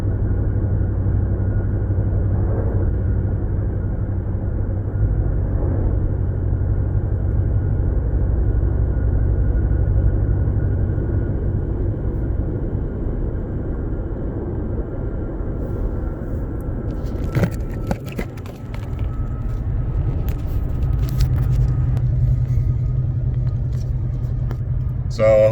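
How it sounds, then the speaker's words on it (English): Steady tire whine and low road rumble from a 2019 Ram 1500 with a 5.7 HEMI and muffler delete cruising on a concrete road at 65 mph, continuous and even, with brief clatter near the end. "The only thing you hear is the whine of the concrete road on the tires."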